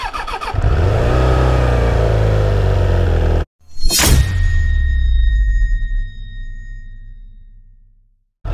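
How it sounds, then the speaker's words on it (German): A Suzuki GSF Bandit 600 motorcycle, first start after about three years standing, idles roughly, cuts out, then is cranked and fires back up with a sharp rev before settling into a steady idle close by. "Jetzt wollen wir mal schauen, ob die Karre anspringt."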